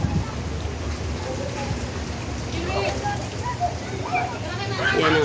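Rain falling steadily outside a small shop, a continuous hiss with scattered patters, while a voice speaks over it in the latter half.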